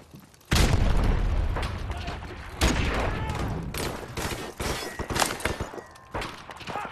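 A fragmentation grenade blows up in Modern Warfare Remastered, a loud booming blast amid dense gunfire, followed by further bursts and shots in a chaotic firefight.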